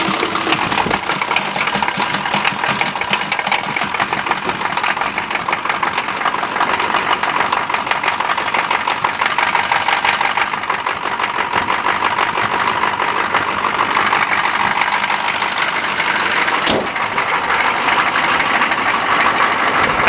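A K5 engine cold-started on a 10-degree Fahrenheit day settles into a loud, steady idle with a rough, knocking mechanical texture, running continuously up close with one sharp click partway through.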